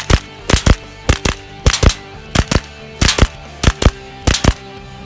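Pairs of sharp gunshots fired at targets in a V-Drill shooting exercise, about seven double shots in quick succession across five seconds, loud and close with no talk.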